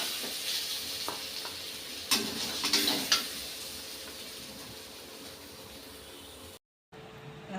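Paneer taco shells fry in oil over low to medium flame with a soft, steady sizzle, broken by a few sharp clicks and taps of utensils partway through, then a brief dropout before the sizzle resumes.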